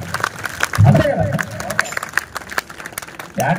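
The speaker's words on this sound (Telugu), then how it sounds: "గట్టిగా చప్పట్లు" A live audience at a festive gathering claps under a loud voice talking into a microphone, the dense patter of hands swelling near the start and again at the end.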